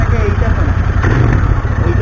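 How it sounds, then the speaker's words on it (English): A Royal Enfield Interceptor 650 twin-cylinder motorcycle with aftermarket dual exhaust idles nearby at a steady, loud, low rumble, while a person talks over it. "This is a twin cylinder dual exhaust."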